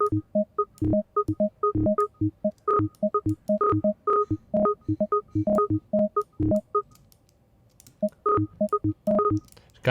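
Short, bright electronic tones in Ableton 12.1 fire in rapid stuttering bursts from a ratchet step effect, stepping through shifting pitches in a choppy, repeating pattern with a short gap near the end.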